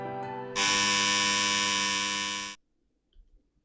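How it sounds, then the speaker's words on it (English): A loud, shrill electronic buzzer in a video game blares for about two seconds, then cuts off abruptly into near silence. "The shrill noise at the buzzer cuts off Karen's words and they don't reach my ears"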